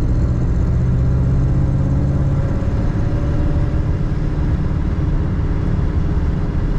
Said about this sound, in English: this car's got a great sound out of it